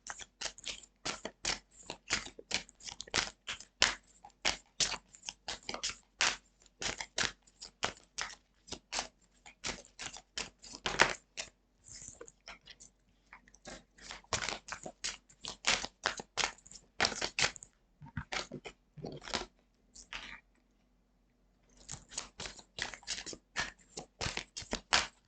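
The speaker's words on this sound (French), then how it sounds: "je vais vous tirer des cartes du petit oracle de Steph." Oracle cards are shuffled and drawn by hand, giving close, quiet rapid flicks and riffles in long bursts with a short pause near the end before the shuffling resumes.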